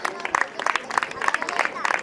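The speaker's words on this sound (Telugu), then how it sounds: "మీరు చప్పట్లు కొట్టాలి." Audience applause at a Telugu speech on sport and giving up addiction, a patter of clapping heard together with a speaking voice.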